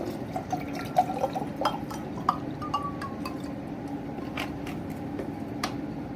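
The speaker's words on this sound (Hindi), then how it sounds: "अभी मैं इसमें पानी डालूँगा।" Water pours into a glass holding ice for cardamom sharbat, with a soft liquid trickle broken by several light clinks and drips of ice against the glass, close and fairly quiet, without talk.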